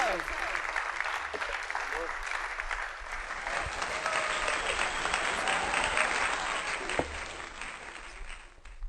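A mushaira audience claps to welcome poet Anjum Saleemi from Faisalabad, with dense sustained applause throughout, a voice speaking over the opening seconds, and the clapping growing fuller in the middle before thinning slightly at the end.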